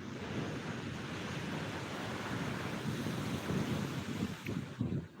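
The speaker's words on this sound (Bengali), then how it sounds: "রীতিমতো শুরু হয়ে গেছে সেই জলোচ্ছ্বাস" Rough sea surging at Digha beach, a constant heavy roar of waves and surf mixed with strong wind buffeting the microphone, loud and unbroken with no voices.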